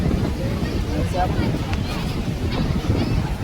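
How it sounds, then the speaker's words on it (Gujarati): Steady wind gusts buffet the microphone at the Dumas Sea Face promenade in Surat, a continuous low roar for the whole stretch with faint sea sounds underneath. "પવન થોડો ઓછો"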